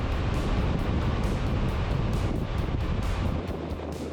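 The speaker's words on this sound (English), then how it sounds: "It's bitterly cold and very windy." Strong, steady wind in the Mojave Desert roars and buffets the microphone for the whole clip, a loud broadband rush with low rumbling gusts and no voices.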